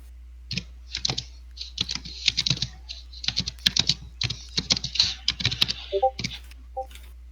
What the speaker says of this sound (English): I love our ship's ye old typewriter.